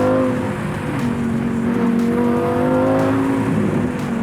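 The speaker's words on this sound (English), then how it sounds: "that mid-mounted V10 is right in your ear, right behind your head, producing the most glorious sounds on the market" Steady drone of a Lamborghini Huracan Evo's mid-mounted V10 heard from inside the cabin, a smooth constant engine tone with slight pitch drift, loud and continuous without any talking.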